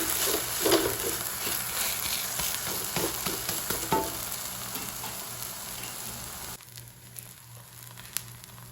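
Uthappam frying on a hot pan, a steady dense sizzle with faint crackles and scraping, close and continuous, easing slightly toward the end.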